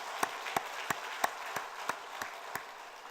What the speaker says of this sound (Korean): 박수로 축복하시겠습니다